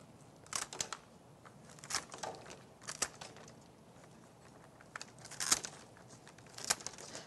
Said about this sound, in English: Then I'm going to cut off my stems.